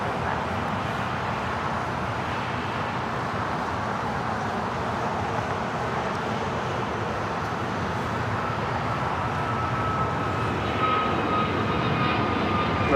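Airplane on its takeoff roll from runway 25 right at LAX, a loud sustained engine roar and rush that holds steady and swells slightly toward the end, with no talk.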